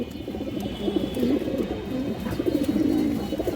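A pair of Chuina pigeons cooing, soft low throaty coos rolling continuously over a faint steady background hum.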